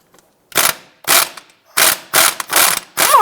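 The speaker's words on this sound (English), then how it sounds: "Using a 12mm socket, let's go ahead and remove the clamp holding the ABS wire." A ratchet turning a 12mm socket to remove the ABS wire clamp on a Subaru Outback, heard as five or six loud, close clicking bursts separated by short pauses.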